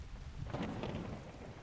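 Thunderstorm in the video game Skyrim: a low rolling thunder rumble swells midway under steady hiss of rain falling on surfaces, fairly quiet and with no voices.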